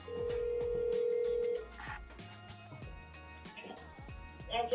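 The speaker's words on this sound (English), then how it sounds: "So I'm gonna FaceTime her as I open it up" A FaceTime call on an iPhone rings out with a steady electronic tone, then gives way to quieter room noise and faint handling sounds.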